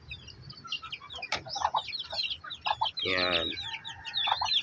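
A native mother hen clucks among her chicks at feeding time: near, steady clucking and a louder drawn-out squawk, with the chicks' high peeps throughout and someone briefly speaking.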